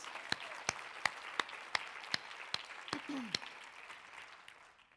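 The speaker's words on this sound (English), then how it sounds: "please join me in a round of applause for all of our sponsors" At a Women's Funding Network conference, applause for the sponsors comes through as sharp, evenly spaced claps close by, about three per second. A voice briefly sounds near the end before the claps fade.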